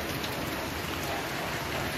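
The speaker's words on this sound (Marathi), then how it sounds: "बघा पाऊस पडतोय." Rain falls steadily over a village house terrace as a loud, unbroken, even hiss with no pauses and no voices.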